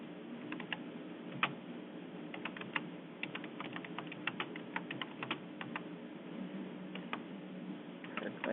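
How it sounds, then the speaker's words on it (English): Keys tapped on a computer keyboard while an address is entered into a site search tool, irregular bursts of close clicks with short pauses, heard alone. "In this case, I'm going to type in an address for a site."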